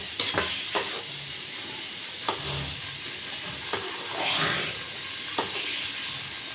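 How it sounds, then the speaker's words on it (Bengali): Sugar cooking down into a thick caramel with soaked amra in a pan, a steady low sizzle and bubbling hiss broken by occasional sharp scrapes of a spoon stirring, close and alone. "চিনি জাল দিয়ে ক্যারামেলের মতো হয়ে গেছে।"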